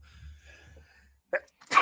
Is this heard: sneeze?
yes